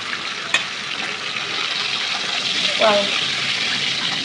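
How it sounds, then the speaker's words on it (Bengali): Pieces of katla fish fry in hot oil with a steady, dense sizzle that fills the whole stretch, broken by a sharp clink near the start and a brief scrape of stirring later. "মাছগুলো ভাজা হয়ে গেছে আমি এখন একে একে উঠিয়ে নেব"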